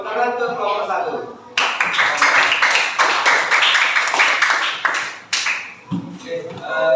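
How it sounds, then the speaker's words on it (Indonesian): A classroom of students applauding group 1, brisk dense clapping that starts abruptly and lasts several seconds, with a teacher's voice speaking before and after. "Tepuk tangan untuk kelompok 1"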